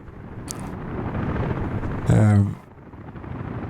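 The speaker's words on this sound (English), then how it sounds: "The helicopters are really loud and busy." Helicopters in the city-building game Workers & Resources: Soviet Republic make a steady, dense rotor rumble that runs through the whole scene, with a brief louder burst partway through.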